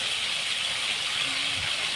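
Prawns fry in a pan while being turned, giving a continuous close hiss of sizzling oil.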